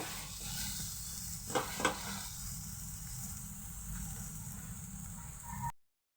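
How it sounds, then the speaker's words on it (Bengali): Soybean paste stirred in a hot pan until dry, a steady sizzle and hiss with a couple of brief scraping clicks near the middle, fairly close and even throughout. "ভালোভাবে একদম নাড়াচাড়া করতে করতে শুকনো করে নেবো"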